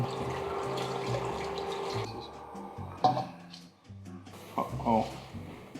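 Water pours steadily from a tap or vessel during home beer brewing, a continuous splashing rush for about two seconds, then brief clatters and short splashes follow, with faint voices nearby.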